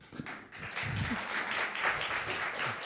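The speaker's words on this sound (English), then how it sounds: "Listen the applause of the audience." Audience at a conference event applauding, a moderately faint, continuous patter of clapping that rises after a soft start and holds steady.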